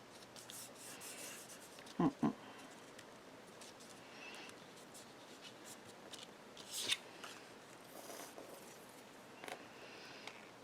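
Scissors cut through patterned paper die cuts for handmade Crealies tree cards, giving soft rubbing snips and a couple of sharper close clips, quiet and intermittent.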